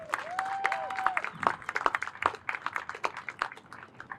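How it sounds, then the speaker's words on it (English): An audience at an ADA Day event gives the advisory board a round of applause, scattered close claps that build into brisk clapping after a short tonal sound at the start. "Big round of applause for the advisory board."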